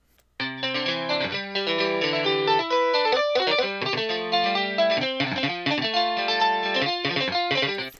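UJAM Virtual Guitarist Sparkle guitar plugin playing a bright, busy clean electric guitar part with rapid picked notes and sliding chord changes, steady and loud throughout with no talking.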